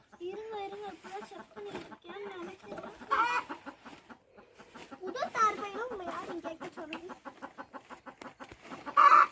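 Hens on an organic egg farm cluck and squawk in repeated short, rising calls, fairly close, with people talking over and between the bird sounds.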